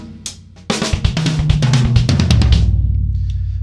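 Fast 32nd-note drum fill on a drum kit, a dense run of rapid snare and tom strokes starting after a brief opening hit and ending with a cymbal crash that rings out, close and loud with no talk.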